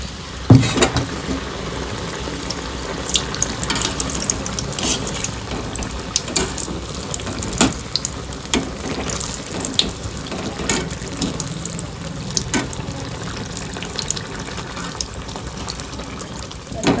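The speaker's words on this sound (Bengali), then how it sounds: "এবারে একটা একটা করে তেলে ছেড়ে দেবে" Spoonfuls of malpua batter dropped one by one into hot oil, giving a busy, crackling bubbling sizzle with scattered sharp pops, fairly close and continuous.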